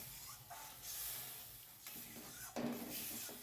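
Water is poured into a pan of fried cumin and chilli powder masala, bringing a soft hissing sizzle that swells and fades in short bursts with stirring, faint and close, no talk.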